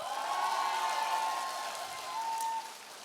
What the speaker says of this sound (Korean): 박수를 화끈하게 쳐야지